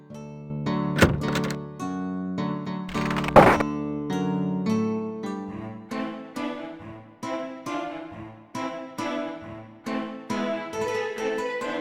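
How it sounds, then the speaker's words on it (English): A heavy bar is lifted and door bolts are unlocked in the video game Quest for Glory 4, heard as two loud, hollow clunks early on, followed by tonal synthesized game music with no talking. "you hear someone removing the bar and unlocking the bolts on the other side of the door"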